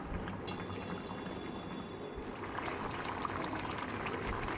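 Lote fish curry simmers uncovered in a pan, a soft continuous bubbling hiss that stays steady and low throughout.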